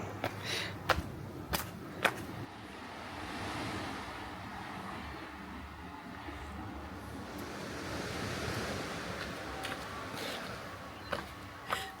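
Steady wash of surf on a tropical beach at Pulau Weh, Aceh, a broad continuous roar with a few sharp knocks and light wind noise; no one speaks.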